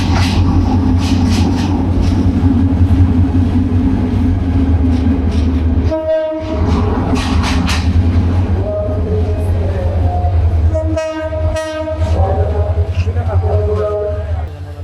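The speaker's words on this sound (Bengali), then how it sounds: "এটা হচ্ছে একটা লোকাল ট্রেন, ঢাকা থেকে ছেড়ে আসছে।" A local train out of Dhaka sits at a station with its engine throbbing in a deep continuous drone, while two long blasts of the horn sound midway and near the end and people talk over it.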